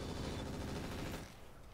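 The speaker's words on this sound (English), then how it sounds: "Fire everything." Mech weapons firing in the Roguetech video game make a dense, continuous rattle of rapid shots that cuts off abruptly near the end.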